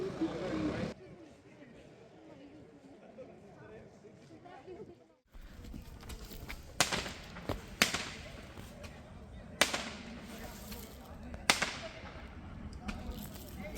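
Diwali firecrackers burst at a university in South Korea, starting after a quiet stretch and then cracking sharply several times at irregular intervals, fairly close, with people talking in the background.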